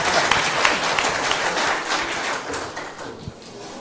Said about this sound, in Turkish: Sevgili Şenol Ağaca seni bir alkışlayalım.